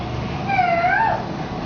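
A cartoon cat gives a single clear, drawn-out meow with a rising then falling pitch, loud and close over a steady background hiss.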